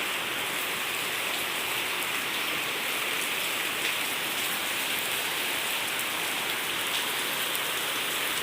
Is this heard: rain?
yes